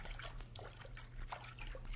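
Water splashing and trickling in a radio drama as someone crawls out of a river onto the bank, soft sloshing and dribbles over a low hum, faint and brief.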